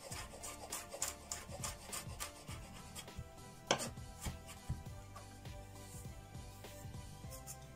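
A knife finely chopping a garlic clove on a board for a salad, giving quick repeated close taps and scraping rubs at a steady rhythm, with no one speaking.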